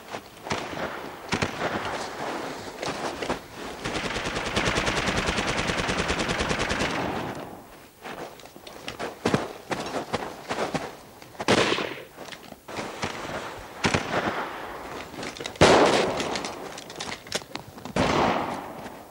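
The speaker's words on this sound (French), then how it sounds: "Les premières balles sifflent au-dessus de nos têtes. Les premières grenades explosent en dessous." Battle sounds of a snowy mountain fight between resistance fighters and attackers, with sustained rapid gunfire, scattered single shots and sharp bursts, plus exploding grenades, loud and dense at first, then intermittent cracks and thuds.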